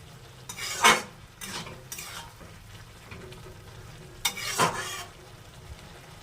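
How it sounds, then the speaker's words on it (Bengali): Bottle gourd greens are stirred with toasted cumin and coriander powder in a frying pan, giving soft scraping strokes with a few louder bursts of sizzle and utensil contact over a low background, with no speech. "এটা দিয়ে এবার নেড়ে নেব"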